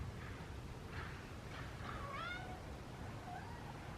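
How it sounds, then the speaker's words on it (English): A cat cries with several meows, the clearest a sweeping, wavering call near the middle and a softer one toward the end, set against a constant loud background hiss indoors. "so while the cat is crying"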